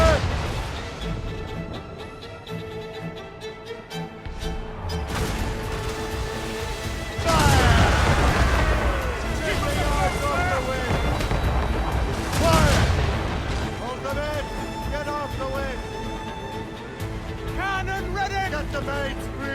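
Naval cannon broadsides during a ship battle in Assassin's Creed Rogue: repeated heavy booming volleys and crashes over wind and sea noise, with crew voices shouting orders between shots.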